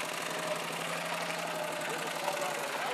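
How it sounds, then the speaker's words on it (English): A race-winning tractor at a raceway runs with a steady, rough, knocking engine drone, moderately loud and unbroken throughout. "It's a race winning tractor."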